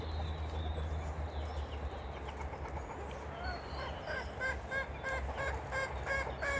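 Guinea fowl and chickens call in a backyard flock, with repeated harsh clucking and squawking cries, the later ones louder and closer, over a steady low outdoor rumble.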